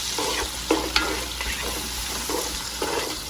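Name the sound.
celery being stirred and cooking in a hot pot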